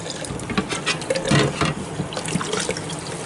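Water runs from a tap in a continuous splashing stream while gunk is scrubbed off vintage Hassock fan parts with 409 cleaner and Scotch-Brite pads, close and fairly loud with small clinks.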